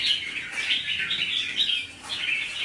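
Pet songbirds in a Vietnamese bird keeper's collection chirp continuously, bright repeated high tweets close by, with no one talking.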